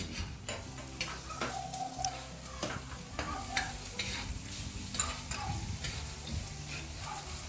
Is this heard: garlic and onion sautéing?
yes